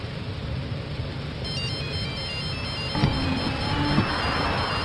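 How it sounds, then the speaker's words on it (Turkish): A mobile phone rings from inside a jacket pocket, a repeating electronic ringtone pattern over a steady background hum, fairly loud and close. "Senin telefonun galiba."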